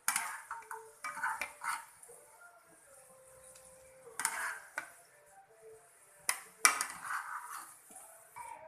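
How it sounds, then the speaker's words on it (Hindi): Fried potatoes scooped from a pan into a tissue-lined bowl make intermittent metallic clinks and scrapes of a spoon against cookware, quiet and close, with short sharp taps separated by brief pauses. "अब हम इसे बाउल में निकाल लेंगे।"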